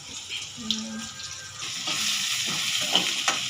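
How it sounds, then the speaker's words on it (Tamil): Onions sautéing in oil with fennel, poppy seeds, cinnamon, bay leaf and cloves, a moderate hiss of frying with intermittent spoon scrapes that swell in the second half, brief watery splashes mixed in. "வெங்காயம் போட்டு வதக்கி வைக்கிறேன்"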